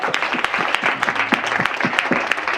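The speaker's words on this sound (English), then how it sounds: "Can you please have one final round of applause?" A room full of people at a business summit applauds steadily, dense clapping filling the whole stretch at an even, lively level.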